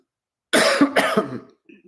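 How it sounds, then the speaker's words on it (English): A pair of harsh, close coughs, one right after the other, loud and dry, then a faint throat sound trailing off. "Sorry about my cough."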